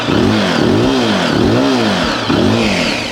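Zontes GK350 motorcycle engine being revved close by, loud repeated blips that rise and fall in pitch roughly three times, each swell climbing then easing back to a rumbling idle, with no talk over it.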